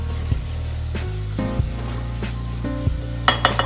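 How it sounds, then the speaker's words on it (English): A pan of dry-spice masala sizzles and fries steadily, with a few soft clinks and stirring taps against the pan rising over the hiss. "I'll fry it until we get rid of the raw flavor of the dry spices"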